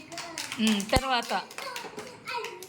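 A quick patter of clapping from small hands, mixed with a voice and a child's speech close by.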